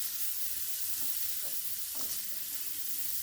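Chopped onion and green chilli frying in a pan for a spinach curd dish, giving a steady close sizzle with a few soft stirring scrapes, and no voices.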